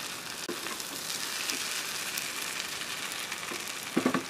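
Ivy gourd stir-frying in a pan with curry leaves gives a steady, even sizzle throughout, with a few faint stirring knocks toward the end and no talking.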